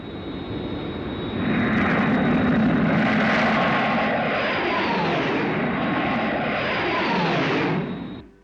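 Aircraft engine drone from a 1960s Captain Scarlet puppet series, an aircraft flying an aerial search for a vehicle, holding steady and loud for several seconds before cutting off abruptly at the end.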